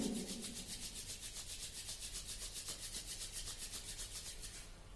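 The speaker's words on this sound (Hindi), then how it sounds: "फिर पाम्स को आप रब कर लेंगे" Palms rubbed briskly together in a quick, even back-and-forth rhythm, a close, dry swishing friction that continues steadily for about five seconds with no talking.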